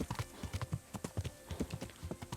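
Horse hooves clip-clop at an even walking rhythm in Kingdom Come: Deliverance, a quick run of clear, close thuds with no talking.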